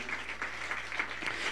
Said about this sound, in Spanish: Hay aplausos al Rey de Reyes